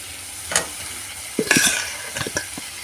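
Potatoes go into a well-cooked spice masala for a thin catfish curry and are stirred in the pan, giving a steady faint hiss broken by scattered scrapes and clinks of the spoon.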